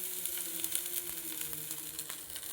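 Rice batter for chitoi pithe poured onto a hot, oiled and water-sprinkled pan, giving a soft steady sizzle with faint crackles, close but quiet and on its own.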